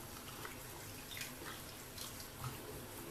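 Water runs from a tap over a small cleaning brush, a faint, steady rush and splash with a few brief spattering bursts as the bristles are rinsed.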